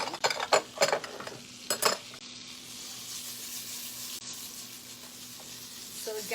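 Butter sizzling and melting in a hot pan for chicken fried rice, a close, steady hiss with a few clattering bursts of utensil scraping on the pan early on, no talking.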